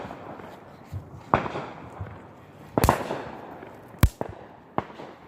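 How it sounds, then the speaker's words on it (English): Fireworks and firecrackers going off at a 4th of July celebration, several sharp bangs scattered irregularly over a few seconds, some near and loud, others softer, with a steady crackling background between blasts. "Some fireworks up in the back."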